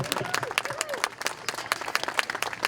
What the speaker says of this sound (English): Please give them another loud round of applause.